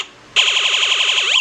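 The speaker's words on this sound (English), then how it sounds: "That's the fire alarm." Fire alarm effect from a sound effects chip: after a brief near-silent moment, a loud electronic warbling alarm starts abruptly and pulses rapidly up and down in pitch, close and continuous.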